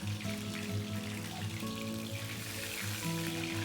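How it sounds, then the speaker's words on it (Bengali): Steady frying sizzle as fish cook in a pan for a mustard-poppy-seed sarputi dish, with soft crackles under faint background music. "একইভাবে আমি আরও দুটো মাছকেও ভেজে নিচ্ছি"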